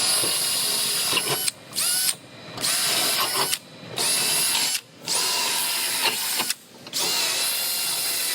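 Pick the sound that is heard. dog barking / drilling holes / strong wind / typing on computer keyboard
drilling holes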